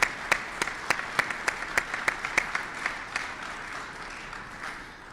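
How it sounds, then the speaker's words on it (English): An audience at a Kentucky–Ohio bridge announcement claps for a senator's representative, steady applause with distinct individual claps up front that gradually thins out. "let's give the senator a big round of applause"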